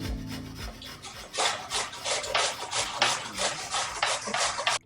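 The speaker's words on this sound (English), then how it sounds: "Now I'm gonna start grating the turnip." A turnip being grated by hand, with steady rhythmic rasping strokes of moderate loudness following a short quieter start, repeated scrapes coming one after another with no talking.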